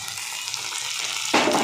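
Onion and tomato frying in a pan, a steady bright sizzle that swells louder and fuller near the end as more goes in, with no talking.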